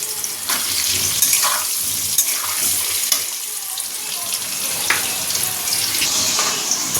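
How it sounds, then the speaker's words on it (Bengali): A batch of potatoes fries in a pan of oil, giving an even, loud hissing sizzle throughout with occasional small clicks and faint voices in the background. "একসঙ্গে এত আলু ভাজা যাবে না, একটু একটু করে ভেজে নেব।"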